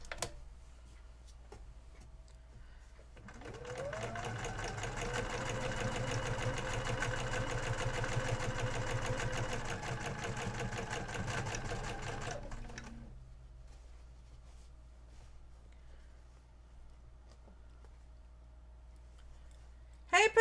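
Sewing machine stitching during machine quilting, a steady rapid needle chatter with motor hum running for about ten seconds, close and fairly loud, between quieter stretches of low room hum.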